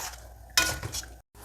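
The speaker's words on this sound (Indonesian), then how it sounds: "Sisanya tak goreng pelan-pelan ya" Thin peyek crackers fry in a pan, a short burst of sizzling with a clink of a utensil, followed by a brief silence.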